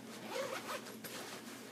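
A zipper runs along the zippered compartment of a rolling weekender bag, a quiet, close rasping pull lasting under two seconds.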